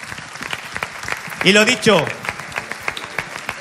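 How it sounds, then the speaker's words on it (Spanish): Applause from a theatre audience swells briefly under someone talking into a microphone, a scattered patter of clapping behind his voice with a short loud vocal burst in the middle. "Así que el primer aplauso fuerte para este público estupendo."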